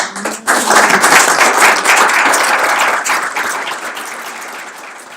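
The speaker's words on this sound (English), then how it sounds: "the applause lasted for another good minute" A room full of people applauds at the end of a talk, dense and loud clapping that starts abruptly and holds steady before easing slightly, with no voices over it.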